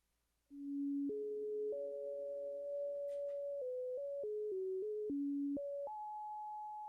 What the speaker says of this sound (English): the O button is basically like a sine wave. So it's a very simple wave